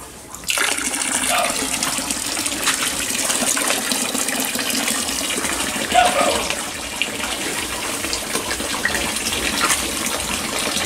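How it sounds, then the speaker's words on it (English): Water gushes steadily into a sow pen on a farm, a continuous hissing pour that starts abruptly and runs without a break, with a brief splashy surge midway. "Add a little more water."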